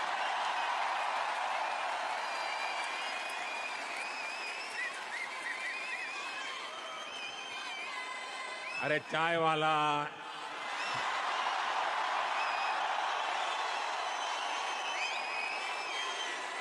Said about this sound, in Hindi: उसके पीछे तालियां बजा रहे हैं।